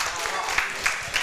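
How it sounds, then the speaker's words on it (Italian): Audience applause in an Italian TV studio show, a short, steady patter of clapping from a small crowd, with speech audible over it. "Va bene, ragazzi, fatemi un applauso."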